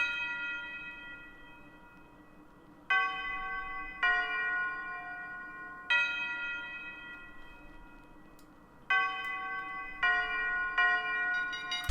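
A bright, ringing bell sample pitched up 50 cents in a hip-hop beat, struck in repeated hits with long sustained tones that decay between strikes, clear and isolated.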